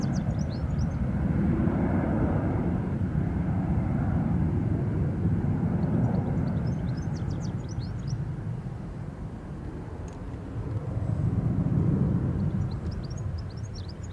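An Aer Lingus Airbus A330 airliner departs Dublin Airport, its engines a steady, broad roar that swells and fades over many seconds, with faint birdsong chirping above.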